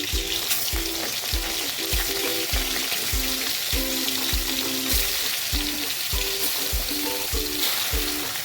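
Prawns coated in salt and turmeric fry in white oil in a kadai, giving a close, loud, continuous sizzle with a regular rhythmic tapping or stirring beat through it.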